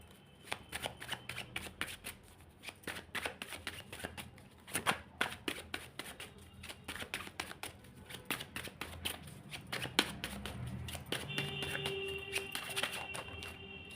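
Tarot cards being shuffled and handled at close range, a run of crisp riffling snaps and flicks with a brief soft tone near the end, no talking.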